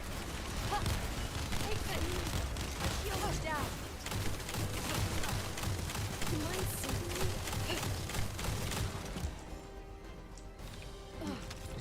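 A heavy bombardment of gunfire and impacts in The First Descendant, with dense rattling shots and crashes throughout, then easing near the end, with someone talking over it.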